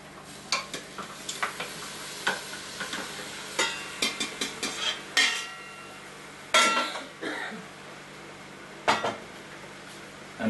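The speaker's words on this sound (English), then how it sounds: "Now I'm going to add the meat, which I've already sauteed before." Meat goes into a pot of sautéed onions and spices for curry, with a faint sizzle beneath scattered clinks and scrapes from a spoon against the pot.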